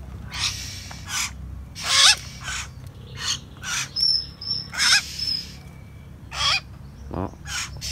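Young hill mynah birds from Dak Lak call in a run of short, bright squawks and chirps, close by, with a steady low hum underneath and brief pauses between calls.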